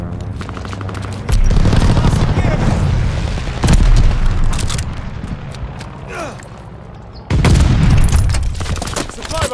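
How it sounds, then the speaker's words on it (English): Airstrike explosions in Call of Duty: Vanguard hardcore team deathmatch roll in as heavy, loud booming blasts, several in succession with a pause between, mixed with gunfire and game voice lines. "Allies called an airstrike."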